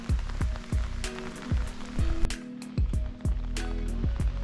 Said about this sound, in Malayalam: ഈ മഴയും ഇതിൻ്റെ ഈ മഴയുടെ സൗണ്ടും